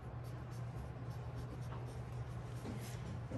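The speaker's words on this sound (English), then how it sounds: "I'm gonna write in Sharpie just so you can see it." Felt-tip Sharpie marker scratching across paper in a classroom craft setting, a steady soft scribbling close by under a low constant hum, with no talking.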